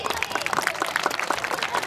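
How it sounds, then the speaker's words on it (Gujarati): Sparse, uneven clapping from an audience at a school annual function, Rangotsav 2026, with individual hand claps standing out over a soft background murmur in a large hall. "તાળીઓનો અવાજ બહુ ઓછો આવે છે"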